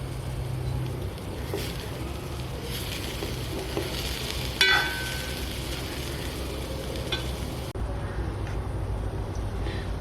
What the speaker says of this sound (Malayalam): അപ്പോൾ തേങ്ങ വറുക്കുമ്പോൾ ഇടയ്ക്ക് കുറച്ച് വെളിച്ചെണ്ണയൊക്കെ ഒഴിച്ചു കൊടുക്കുക